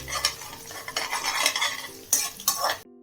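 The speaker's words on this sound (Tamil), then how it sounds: "ரொம்ப இந்த முட்டை வந்து ஃப்ரை ஆகணுங்கிறது இல்லை, கிளறி விட்டுருங்க" Eggs fry in a pan for chicken fried rice while a utensil scrapes and stirs them in uneven bursts over a soft sizzle, stopping abruptly at the end.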